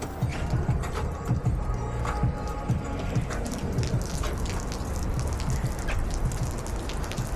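Steady rain pours down in Malaysia with dense patter and drips on hard surfaces, loud and continuous with no voices.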